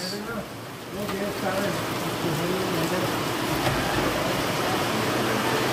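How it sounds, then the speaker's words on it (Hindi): Hard rain pouring down in the Uttarakhand hills, a dense continuous roar that swells after the first second, with someone speaking underneath. "बहुत तेज़ बारिश हो रही है इस टाइम।"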